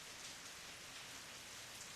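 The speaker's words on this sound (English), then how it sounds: "In less than a minute, the rain turns into a full downpour." A heavy rain downpour roars steadily, a dense, unbroken hiss of drops hitting surfaces, even and enveloping, with no voices.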